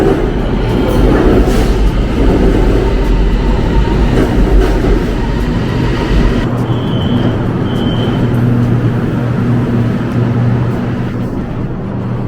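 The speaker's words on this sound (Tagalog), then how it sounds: "Ayan na yung train" A metro train pulls into the Masjid Jamek station platform in Malaysia, a loud sustained rumble of wheels and rail noise that fills the whole stretch, with a brief high whine partway through as it slows.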